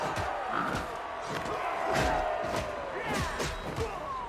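A crowd cheers and roars throughout a battle scene in the video game Pathfinder: Wrath of the Righteous, with repeated heavy thuds and impacts punching through the steady noise of many voices.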